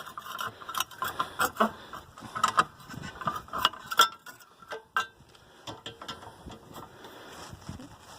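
Tightening a bolt on the rear brake of a 1991 Honda Accord, with a ratchet clicking in short, irregular bursts close by and no talking.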